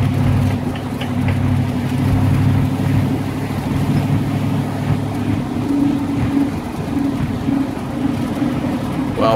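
A 1929 Kissel White Eagle classic car with all original running gear runs steadily nearby, producing a loud, even engine rumble that holds without pause throughout.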